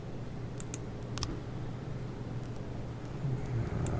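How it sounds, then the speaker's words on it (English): Mouse clicks while playing the video game This Is The Police, a few faint, sharp clicks in quick pairs over a steady low hum of game ambience. "I don't know why I keep clicking on that."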